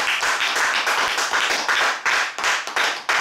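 A church congregation claps loudly and steadily in acclaim, a dense continuous applause of many hands with slight swells and brief dips, no voices standing out.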